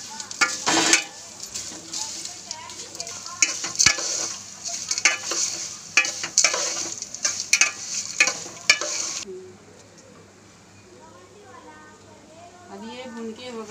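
Dates roasting in a pan for sawai give a loud crackling sizzle and repeated scraping stirs for about nine seconds. The sound then drops to a faint background hiss while someone talks.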